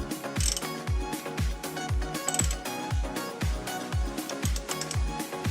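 A ratchet clicks in quick repeated bursts while torquing the belt tensioner bolt on a Miata, the pawl snapping in a steady mechanical rhythm close by with no talking.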